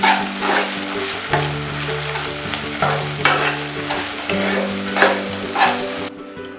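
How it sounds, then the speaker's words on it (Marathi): Crushed ginger, garlic and chili sautéed with onion in a hot pan: steady loud sizzling and frying with repeated scraping stirs of a spoon, no talking, ending abruptly. "परतून घेऊया"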